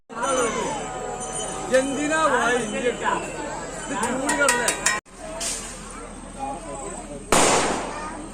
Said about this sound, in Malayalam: എവിടെ വലിയ അടിയെന്നൊക്കെയാണ് പൊട്ടണത് അമ്മോ കമ്പക്കെട്ടിന് തീ പിടിച്ച്